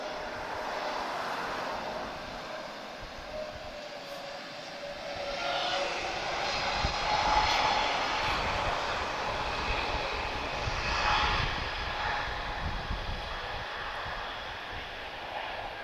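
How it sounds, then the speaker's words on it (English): An Airbus A320neo with Pratt & Whitney 1000G engines flying to Amsterdam from Lisbon Airport passes with a steady, broad engine roar that swells to a peak midway and stays loud throughout, heard from an outdoor spotting position. "This is a Pratt & Whitney 1000G powered A320, slightly different from the ones that TAP use."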